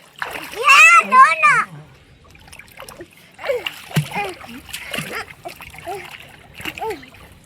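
Children play in water at home, with bursts of splashing under excited young voices talking and squealing, loud and close, then pausing and resuming in shorter splashes.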